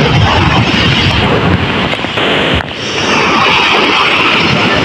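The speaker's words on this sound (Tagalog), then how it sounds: "Napakalakas pa rin po ang mga alon." Strong sea waves break steadily along a shore under gusting wind, a loud, dense wash of surf roaring without pause, dipping briefly in the middle before rising again.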